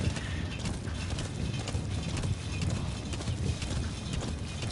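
Horse hooves clip-clopping in the Metal Gear Solid V game, a steady, busy patter of steps under constant game background noise, fairly close and even in level throughout.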